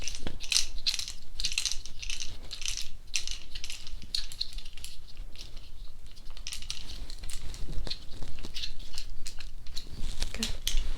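A tool tightening parts in an ASMR roleplay, with close, crisp metallic clicks and ratcheting ticks in quick irregular bursts, steady throughout at low level.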